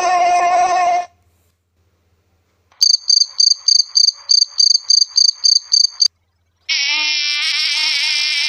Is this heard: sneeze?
no